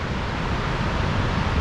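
Steady, loud broadband roar of Angel Falls, a waterfall on a snowy trail just outside Yosemite's south gate near Bass Lake, running heavy and continuous up close with no voice over it.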